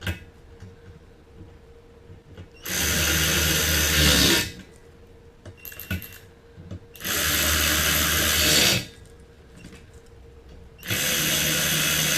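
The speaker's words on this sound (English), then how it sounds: "Let me go find my hex driver this size" A hex driver power tool runs screws into a big and tall office chair in three long, loud bursts of whining motor, separated by quieter handling clicks and rattles.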